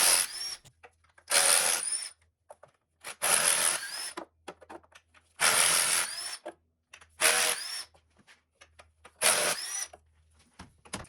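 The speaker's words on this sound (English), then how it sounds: "now we're gonna start taking off all the 13mm bolts with my e-pack wrench" Cordless electric wrench zipping 13mm bolts off the intake of a Chevrolet Silverado, six short loud whirring bursts with quiet gaps and clicks of handling between them, close by with no voices.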